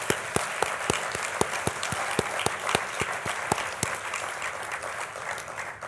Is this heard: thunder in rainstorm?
no